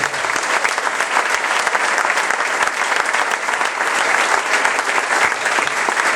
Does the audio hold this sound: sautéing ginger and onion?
no